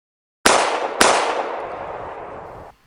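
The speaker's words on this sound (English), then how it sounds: "gunshots" Two sharp gunshot sound effects crack close and loud about half a second apart, then a long echoing tail fades out, set in a dramatized school lockdown horror story.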